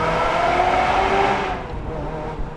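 A Ferrari F355 Spider V8 exhaust roars inside a tunnel with a booming, reverberant echo, revving high and then easing off as the roar fades.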